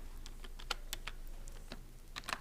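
Quick, irregular clicks of typing on a computer keyboard while writing Python code, close and fairly quiet, with short pauses between clusters of keystrokes.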